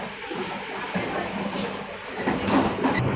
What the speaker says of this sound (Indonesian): Oke, ini adalah gerbong makannya kereta api Cikuray.